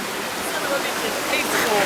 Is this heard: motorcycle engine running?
no